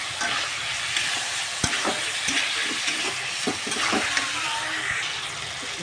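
Chicken fries in oil seasoned with salt and turmeric, giving a loud, continuous sizzle that fills the whole stretch, with occasional stirring scrapes and taps close by.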